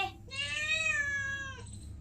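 A single drawn-out cat meow, close and clear, over a faint low background hum.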